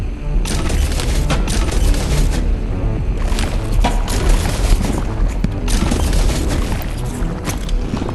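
Explosives going off in the Animal Company VR game, a rapid barrage of loud booms and crackling blasts in several dense bursts with short gaps between them, with no talking.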